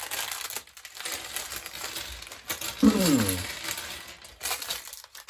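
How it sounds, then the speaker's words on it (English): Close, crinkly rustling of plastic being handled and pulled at, with a brief louder crackle partway through. "It is in a plastic bag here. I'll just go ahead and try to open this."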